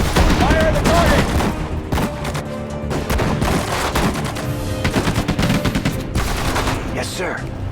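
Dense gunfire fills a Sudden Strike 4 battle set at the Battle of the Bulge, with rapid machine-gun bursts and overlapping shots rattling continuously and loudly throughout.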